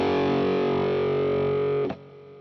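A Glarry GST-E strat-style electric guitar with rosewood fingerboard strums one distorted chord that rings loud and sustained, then is abruptly muted near the end, leaving a faint buzz.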